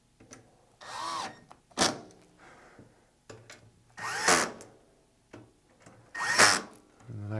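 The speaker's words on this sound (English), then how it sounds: "and then snug the screw down." Short bursts of a cordless power drill driving a screw into a metal rack ear on an Emotiva home theater component, three separate whirring runs with quiet pauses between, close and clear.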